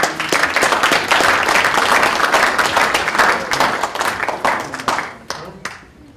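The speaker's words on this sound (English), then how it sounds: "a round of applause for Connor" An audience gives a round of applause for a speaker at a speaker series event, loud and close at first, then thinning into scattered claps that fade out toward the end.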